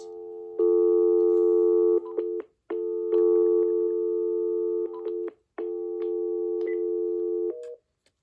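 Repeated flat telephone busy tones in long steady bursts with short gaps, clear and close, no voices.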